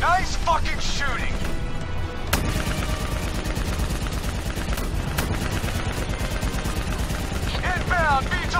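Gunfire in the Call of Duty Black Ops 3 video game runs constantly through a dense battle mix, with a few sharp blasts standing out over rumbling vehicle noise and shouted voices.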